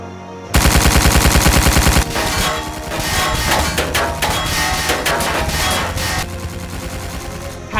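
Rapid automatic gunfire from the Stone Army in an animated Ninjago film, loud sustained bursts layered over a dense orchestral score, with staccato volleys building after a pulsing opening.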